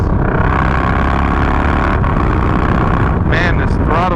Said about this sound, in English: We'll do a quick 0 to 60.